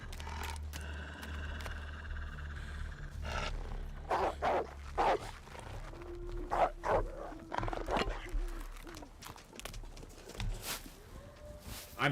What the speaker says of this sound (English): The dog is mad that I'm trying to get cat tails.